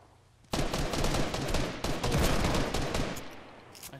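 Gunfire in the Fortnite video game, a loud rapid burst of shots that starts abruptly and keeps rattling for several seconds before trailing off.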